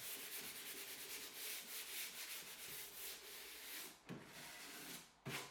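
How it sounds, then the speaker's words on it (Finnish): Hand sanding of a painted mid-century wooden dining table gives a close, rhythmic scratchy rubbing in repeated strokes that continue steadily, then break off briefly near the end before one last stroke. "Hionta näytti auttavan todella hyvin."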